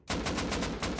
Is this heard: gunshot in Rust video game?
yes